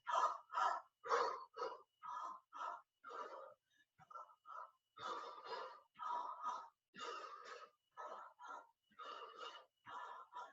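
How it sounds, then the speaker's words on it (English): A steady, rhythmic run of short, forceful breaths in a standing senior exercise class, the quick puffs repeating in even bursts like a chugging train, close and clear with brief pauses between sets. "Get that nice choo-choo breath."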